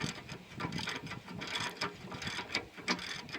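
A 1/2 inch drive ratchet works a spring bolt on a trailer axle, giving a quick irregular run of mechanical clicks and ratcheting strokes at close range, with no talk.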